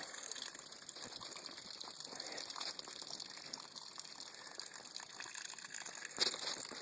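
Water runs steadily from a household faucet while a ten-month-old baby plays in the stream, a soft continuous gushing and splashing heard fairly close with no talking over it.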